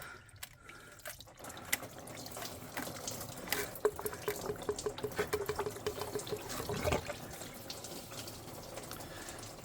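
Coolant pouring and splashing from a loosened thermostat housing on a Jeep Cherokee Latitude 2.4L, a steady liquid gush with drips and small clinks building over several seconds, close and fairly quiet.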